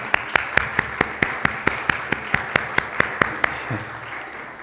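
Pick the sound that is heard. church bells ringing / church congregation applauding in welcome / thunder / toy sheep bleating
church congregation applauding in welcome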